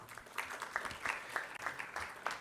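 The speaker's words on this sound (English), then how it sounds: "a huge round of applause for all of you" Applause for participants at the finale of a quiz for lawyers, faint and distant, with a handful of individual claps audible over a soft background wash.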